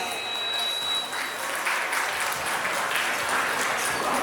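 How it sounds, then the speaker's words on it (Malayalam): Audience applause at an engagement ceremony, a sustained crowd of hands clapping steadily and fairly loud throughout, with a brief lull partway through. "എന്നാലും ഇവരോടുള്ളൊരു സ്നേഹത്തിന് നല്ലൊരു കൈയടിയാവാം"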